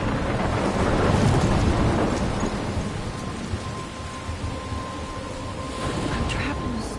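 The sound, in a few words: thunderstorm with rain in Life is Strange video game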